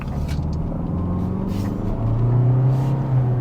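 A Kia Seltos with a diesel engine and torque-converter automatic drives at high speed, a steady loud low engine and road rumble with a droning tone that rises slightly toward the end, no talking.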